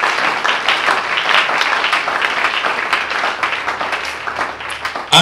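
A church congregation applauds and cheers to acclaim the Lord, a dense, steady wash of clapping and voices that holds evenly for several seconds.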